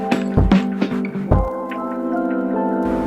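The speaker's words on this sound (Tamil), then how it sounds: "அரைச்சி வச்சிருக்க தேங்காய் பேஸ்ட்டை தயிரில் சேர்த்து நல்லா மிக்ஸ் பண்ணிடுங்க." Ground coconut paste being stirred into whisked curd for a Tamil okra buttermilk curry gives wet, squishy mixing sounds in several uneven bursts, close up, over a steady background tone.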